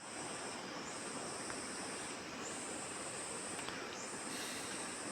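A waterfall near a mountain Krishna temple in Himachal Pradesh, heard as a steady, unbroken rushing roar that holds at even loudness throughout, with no voices over it.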